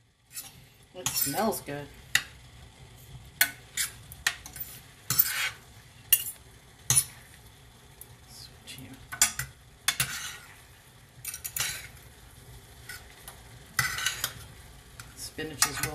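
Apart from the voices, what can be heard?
stirring pasta with spinach in a pan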